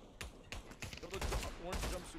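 Short rapid volleys of the French gun firing in Pavlov VR, several quick close bursts in a row over about two seconds, with some voice mixed in.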